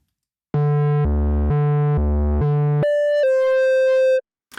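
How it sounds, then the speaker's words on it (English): An Omnisphere guitar-style synth lead plays a steady series of sustained notes, alternating low and higher pitches, then switches to a brighter, more overdriven tone through a Tube Screamer-style stomp box before stopping. "And let's switch on the stomp box."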